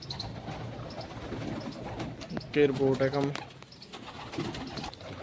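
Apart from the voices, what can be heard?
pigeons cooing while eating grain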